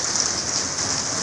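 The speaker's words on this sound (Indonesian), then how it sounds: "Dalam keadaan hujan deras nih." Heavy rain pours down in a dense, unbroken hiss, loud and close throughout, during a pre-dawn prayer stop on a trip through West Sumatra, with no voices.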